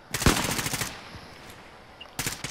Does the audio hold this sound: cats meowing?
no